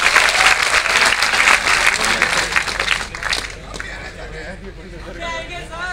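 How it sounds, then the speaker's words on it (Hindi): Loud applause from a live crowd at a motivational stage show in Kota, steady for about three seconds before thinning into scattered claps and murmuring voices. "एक बार इन दोनों के लिए जोरदार तालियां बजाएं।"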